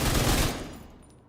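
Rapid automatic gunfire from a weapon in The Division 2, a dense loud burst emptying the magazine for about half a second before trailing off into fading echo.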